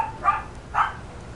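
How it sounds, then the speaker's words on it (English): Dogs bark twice in a game world, two short, moderately loud barks about half a second apart over a faint background hum. "are my dogs barking again?"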